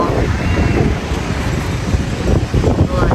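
Sea surf and strong wind at the Agoo baywalk roar continuously up close, heavy wind buffeting the microphone over the rushing of waves, loud and unbroken.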